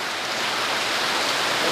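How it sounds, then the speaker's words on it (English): Heavy rain pours and leaks inside a building during Hurricane Charley, a dense, steady hiss of water splashing down without break. "And now it is raining throughout the entire building."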